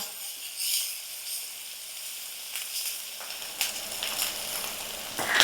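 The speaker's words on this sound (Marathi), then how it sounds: "तेल तापलंय आता आपल्याला ह्याच्यात टाकायचं आहे कांदा आणि कांदा आपल्याला सगळ्यात पहिल्यांदा नरम करून घ्यायचा" Chopped onion hitting hot oil in a pan for Kolhapuri tambda rassa, a steady close sizzle with brighter crackling bursts that grow denser toward the end, and no voices.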